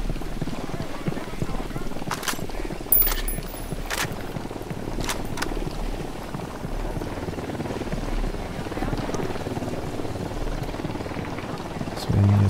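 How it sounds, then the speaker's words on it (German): A helicopter in the tactical shooter Ghost Recon Wildlands, heard as a steady rotor drone mixed with wind noise, footsteps and a few sharp game sounds, lasting throughout, with talk over it. "Der Heli schon wieder."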